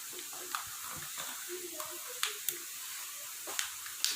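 Hot cooking oil sizzles in a kadhai as onion gravy goes in, a soft steady hiss with scattered crackles and pops, fairly quiet and close.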